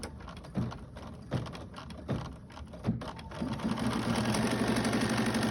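An embroidery sewing machine stitching a quilt block in the hoop gives a few separate thumps, then settles into a steady, close, rapid mechanical stitching rhythm.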